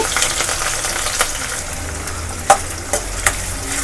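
A whole onion frying in oil with mustard seeds and curry leaves, a steady close sizzle with a spatula stirring and a few sharp scrapes and knocks against the pan.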